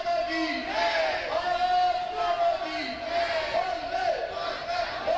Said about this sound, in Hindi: ये देखिए किस तरीके से नारे लगाए जा रहे हैं